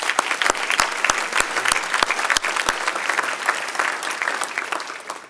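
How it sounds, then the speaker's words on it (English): An audience at a United Way of Washington County team celebration event applauds, with steady, moderately loud clapping from many hands in a large room and a few sharper claps standing out early on. "let's give Brenda Ehrlich a round of applause in the back, snapping pictures"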